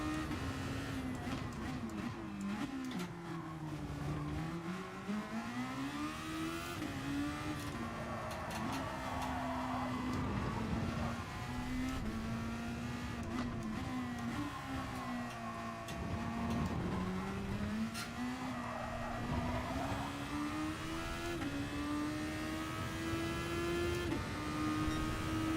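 Super Formula race car engine in a racing video game at the Nurburgring GP circuit, a steady droning whine shifting pitch through gears and corners, loud and continuous with no talking.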